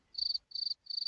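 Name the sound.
crickets chirping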